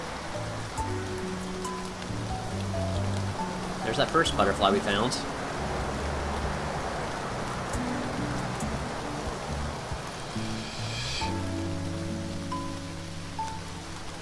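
Rain falls steadily on surfaces outdoors, an even hiss throughout, while people talk nearby over it.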